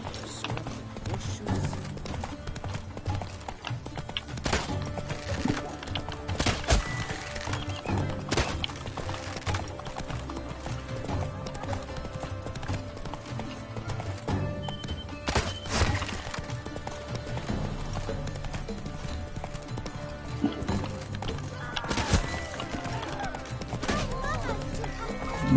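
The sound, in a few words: horse Roach's hooves in The Witcher 3 video game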